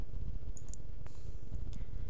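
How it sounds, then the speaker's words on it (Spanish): Computer mouse clicks while drawing lines in CorelDRAW, a few quiet, sharp clicks spaced apart over a low steady hum. "Clic arriba, clic abajo."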